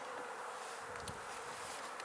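Honey bees buzz in a steady, dense drone near a hive box, faint but continuous, with no voices over it.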